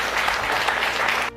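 A courtroom audience at a paternity court hearing breaks into steady, dense applause, a continuous wash of many hands clapping that stays loud throughout and then cuts off abruptly at the end.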